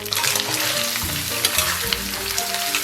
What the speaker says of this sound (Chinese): 咱们把牛肉炒至焦香，把葱姜蒜干辣椒给它下里边。